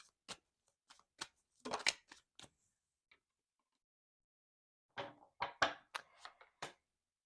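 Two bursts of crisp tarot card riffling and snapping separated by a quiet pause, close up with no talking.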